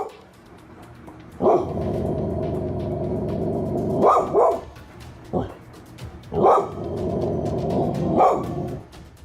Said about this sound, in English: She starts growling and barking more as she gazes upwards.